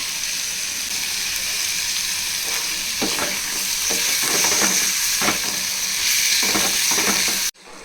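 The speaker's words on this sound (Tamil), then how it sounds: "ஒரு 2 டொமேட்டோ சேர்த்துருக்கேன், மீடியம் சைஸ். அதையும் நல்லா ஃப்ரை பண்ணிப்போம்." Two medium-sized tomatoes fry in a pan for vada curry, a steady close sizzle with intermittent scraping stirs, ending abruptly.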